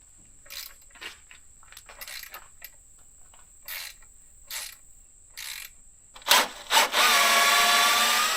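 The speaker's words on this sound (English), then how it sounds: "we take out these bolts that hold the current rack on" A ratchet clicks in short spaced bursts while removing bolts holding a rack on a CFMoto ZForce UTV, followed by louder metallic clanks and a sustained whir at the end.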